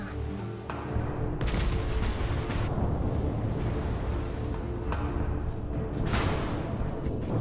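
Naval artillery booms from World of Warships armor-piercing salvos roll through a dense, continuous battle din, with several sharp broadband blasts standing out over a low rumbling bed.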